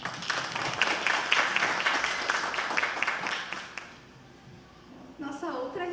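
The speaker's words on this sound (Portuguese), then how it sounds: "Palmas para a Kerley, gente." An audience applauds for Kerley at a public relations event, dense clapping for about four seconds that fades out, followed by a brief voice.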